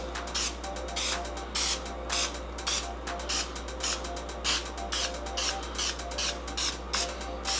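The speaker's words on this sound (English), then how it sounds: "we're just gonna hit these up a little bit with some of this spray" Cooking spray hisses onto raw chicken pieces headed for a Weber kettle grill, about a dozen short aerosol bursts in a steady rhythm, close and alone over a constant low hum.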